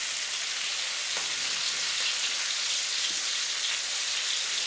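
A flat iron steak searing in a cast iron pan over medium heat gives a loud, constant hiss and crackle, close and unbroken, with no one talking.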